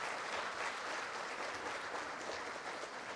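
Steady, even applause fills a conference hall as the audience welcomes Kerala Governor Arif Mohammad Khan at a regional official language conference, heard from a distance and continuing unbroken with no voices.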